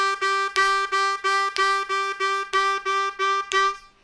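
A C harmonica plays a repeating pattern of short, bright, reedy notes grouped in threes over the beat, evenly spaced and close up, with no voices.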